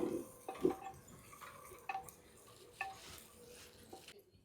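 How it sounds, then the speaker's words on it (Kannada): A spoon stirs egg biryani in a cooking pot: a run of scraping, rustling strokes with a few sharper clinks against the metal, steady and close with no talking. "ಅದನ್ನು ಕೈಯಾಡ್ರಿ ನೀವು"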